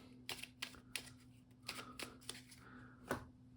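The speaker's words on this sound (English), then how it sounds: "And then you shuffle up the deck." A deck of cards shuffled during a tabletop game, heard as a quick series of crisp riffling bursts and taps, close and fairly quiet, with short pauses between them over a faint steady hum.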